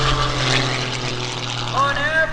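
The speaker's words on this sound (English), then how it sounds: "Here comes Greg Connell rolling that airplane." Wolf Pitts aerobatic biplane flown by Greg Connell rolling past at an airshow at about 180–200 mph, its propeller engine droning steadily and loud under an announcer's voice, pitch bending toward the end.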